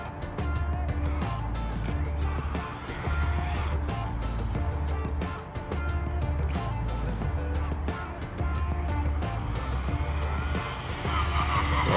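An Arrma Infraction RC car fitted with a SkyRC gyro steering stabilizer runs fast, its electric motor whining steadily and close with rising and falling pitch and faint tire noise throughout, no voices.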